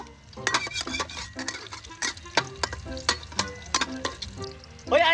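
An egg frying in a pan while a utensil stirs and scrapes, close sizzling broken by a string of sharp metallic taps and clinks, with no voices.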